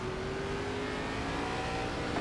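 Gen4 Cup race cars in a video game roar together at the green-flag start, a dense, steady engine drone holding level with a faint whine rising through it, no voices.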